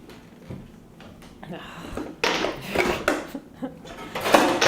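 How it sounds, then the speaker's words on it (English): A knife cuts kale and cauliflower by hand on a board, giving repeated crunchy chops and scrapes that grow louder in the second half, close up, with talking underneath. "I am going to cut the kale and a little bit of the cauliflower by hand"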